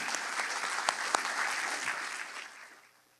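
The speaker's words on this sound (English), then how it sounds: "Let's give them a big round of applause." An audience at a scholarship award ceremony applauds the recipients, a steady wash of many hands clapping with a few sharper claps, fading out after about three seconds.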